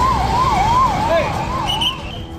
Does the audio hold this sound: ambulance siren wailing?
yes